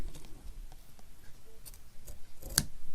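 Scissors trimming paper for a craft project, with faint scattered snips across the clip and one sharper cut near the end, quiet and close, with no talking.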